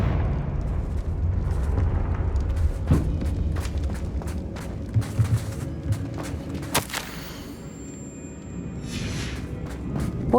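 Blasting spell explosions in the Hogwarts Legacy game, a dense run of booms and sharp bursts over a low rumbling bed, with a bright crack near the middle and a fading hiss afterward.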